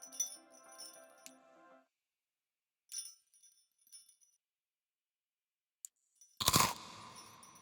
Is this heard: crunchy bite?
yes